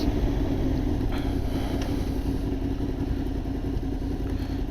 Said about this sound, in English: I like how this bike revs and's got a pretty good power at low RPMs.